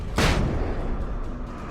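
A flashbang grenade goes off in the video game Alan Wake, one loud sharp blast followed by a lingering low rumble fading under the game ambience.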